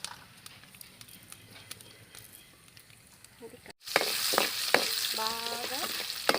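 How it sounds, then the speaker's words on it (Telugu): Chana dal, urad dal, mustard seeds and garlic fry to golden brown for a raw tamarind chutney, a soft sizzle at first, then a louder, brighter crackle with sharp popping spatters close up after a brief break. "బాగా గోల్డెన్ బ్రౌన్ కలర్ వచ్చేంత వరకు ఫ్రై చేసుకున్నాం. ఇలా చిటపట అంటుంది కదండి."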